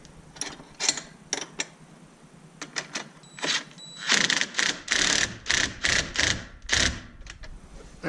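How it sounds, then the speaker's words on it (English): Nuts on a Polaris RZR being tightened with a 7/16 box-end wrench and socket during a Rugged Radios mount install: a run of sharp metallic ratcheting clicks, sparse at first, then dense rapid bursts, close and clear without talk. "we use a 7/16 box end here and socket. Get these tightened down."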